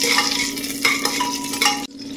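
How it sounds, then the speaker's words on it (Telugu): Whole spices crackle and fry in hot oil for a vegetable biryani, a close steady sizzle with brief stirring scrapes that stops abruptly near the end. "ఇందులో మసాలా దినుసులు వేస్తున్నాను. అలాగా ఫ్రై చేస్తాను."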